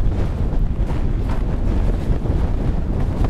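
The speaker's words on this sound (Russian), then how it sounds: "Тут не сколько мороз, сколько ветер очень сильный, холодный, пронизывающий до костей." Strong, cold wind buffets the microphone in a steady, heavy low roar with gusty rumbling, no voices, continuous throughout, in freezing weather in Kazan.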